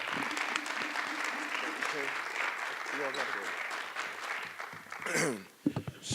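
An audience at a talk-series event applauds a co-founder, a steady wash of clapping from many hands that fills the room before fading near the end, with a voice briefly heard as it dies down.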